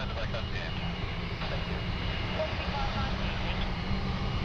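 Qantas 441, an airliner passing at Sydney Airport, gives a steady, broad engine roar that holds level throughout, moderately distant, with people talking beneath it.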